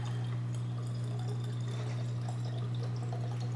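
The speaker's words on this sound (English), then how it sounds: "Pouring in." Liquid poured by hand into a linen refresh spray bottle, a homemade blend with spearmint oil and vodka or witch hazel, as a steady close trickle over a constant low hum.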